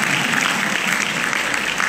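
An audience at a Quran school gathering claps steadily, a dense continuous applause filling the space without a break.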